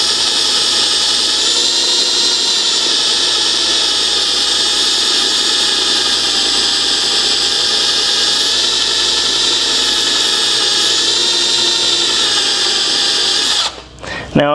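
A power drill bores into a broken bolt, running steadily at high speed with a continuous loud whine at a constant pitch, then briefly cuts out and restarts near the end.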